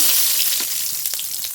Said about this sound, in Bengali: ফড়ন করে নেব কড়াইতে তেল ফড়নের তেজপাতা